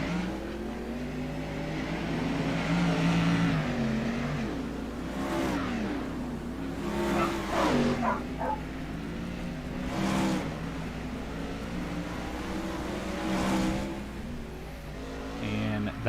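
Race cars on the short Kokomo oval roar steadily as they lap, with engine notes swelling and fading in repeated passes, while a commentator talks over the noise.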